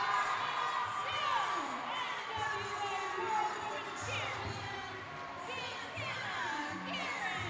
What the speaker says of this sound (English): The crowd's going crazy for Santana Garrett.